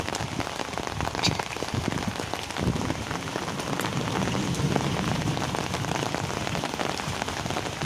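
Steady rain pours onto a terrace garden, a dense, even hiss of drops striking leaves and surfaces that runs without a break from start to finish, with no voices.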